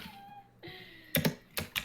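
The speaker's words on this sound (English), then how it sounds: "I hear the typing too." Typing on a computer keyboard during a podcast: a few quick, close key clicks in short bursts near the end, after a soft tonal hum.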